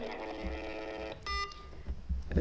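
Telephone connecting tones come through on a live French-language call-in radio health broadcast, a steady tonal hum with a brief bright burst midway, followed by faint clatter, moderately quiet and with no talk over it.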